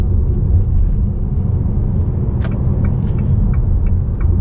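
A Fiat Toro Volcano 2.0 diesel pickup accelerating on the road, a loud steady low engine rumble with road noise, a few faint higher clicks partway through.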